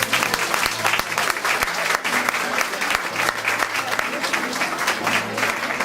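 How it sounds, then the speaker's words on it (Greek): Audience applause for a makeup model named Sofia at a makeup studio presentation, a dense steady wash of many hands clapping close by for the full length, with sharp individual claps standing out. "Να δώσουμε ένα χειροκρότημα στο μοντέλο μας τη Σοφία και να φύγει."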